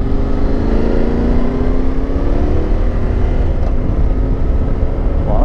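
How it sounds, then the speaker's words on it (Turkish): Motorcycle engine, from a night meetup of Africa Twin, Tenere 700, CRF250 and Tracer 700 bikes, running loudly and steadily at close range, a constant droning roar with slowly shifting pitch throughout. "bu motor çok yüksek ya"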